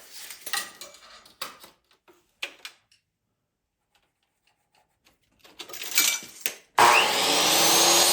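A saw cuts wooden boards to length in a workshop, first in short bursts between pauses, then in a loud, steady, continuous run near the end.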